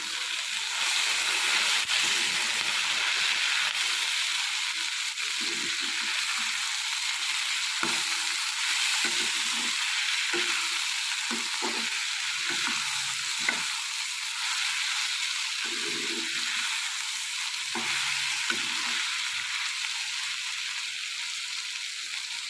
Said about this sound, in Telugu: ఈ దొండకాయ ముక్కలన్నీ బాగా ఫ్రై అయ్యేదాకా ఫ్రై చేసుకున్నాం